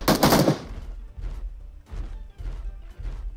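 Video game gunfire: a loud close blast at the start, then a series of muffled, evenly spaced thumping shots farther off.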